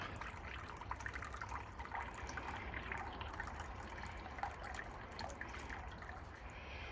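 Water trickles and splashes faintly into a container, a soft continuous dribble with small drips throughout.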